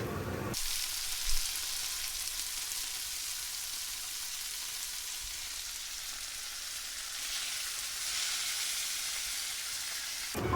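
Spices with ground cardamom fry in a pan and are stirred together, giving a continuous close sizzle and hiss with a few faint scrapes and no talk.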